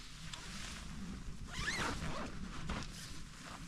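A lightweight bivvy bag is zipped up outdoors while wild camping on Kinder Scout in the Peak District, giving a quick, fairly close zipper rasp of a second or so that rises above faint wind and low background rumble.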